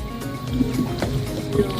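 A boat cruises across Lake Taupo, giving a steady low engine rumble mixed with water washing and splashing against the hull, continuous and close.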